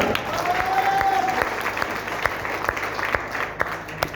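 Audience at a Hindi-language business seminar breaks into sustained clapping, a dense patter of many hands with sharper individual claps standing out, steady and fairly loud throughout.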